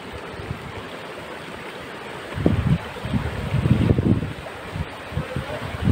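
Mountain waterfall and stream water rushing steadily outdoors, a broad wash of flowing water with some wind buffeting the microphone, swelling louder partway through.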